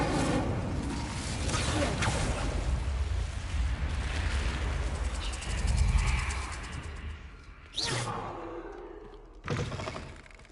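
Fire spell cast in Hogwarts Legacy, a dense roaring burst of flame and magical crackle filling most of the clip, followed by two sharp separate whooshing impacts near the end.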